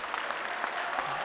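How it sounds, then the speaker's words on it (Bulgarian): Basketball crowd applauding steadily during a Bulgarian playoff game between Yambol and Balkan, a dense wash of hand claps filling the arena for the whole stretch. "И не случайно го аплодира в публиката."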